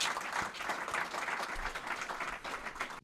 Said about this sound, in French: on peut les applaudir évidemment